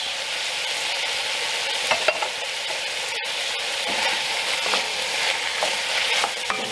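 Vegetables with herbs and tomatoes sizzle steadily in a Dutch oven for lamb shanks, a close, continuous frying hiss broken by occasional stirring scrapes.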